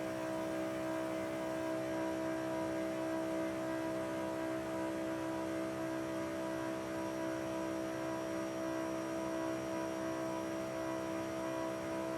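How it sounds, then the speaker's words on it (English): Steady engine tone from a Lamborghini Huracan Tecnica V10 in the racing game Forza Horizon 5, a constant high-speed hum with sustained harmonic whine and no audible revving changes, heard alone throughout. "This is a very fast car, and that V10 does sound very good."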